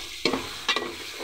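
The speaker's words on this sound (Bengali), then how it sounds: "এখন এখানে আমি একে একে লাউগুলো দিয়ে দিচ্ছি। লাউ এবং টমেটো আমি একসাথেই দিয়ে দেব।" Chunks of bottle gourd and tomato drop into hot oil with frying spices, giving two quick bursts of sizzle and stirring, then a steady soft fry.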